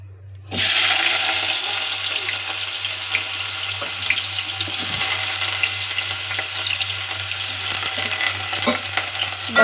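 Potato frying in hot oil in a home kitchen, browning until crisp: a loud, steady sizzle starts abruptly about half a second in and holds for the rest, with a low hum underneath and no talking.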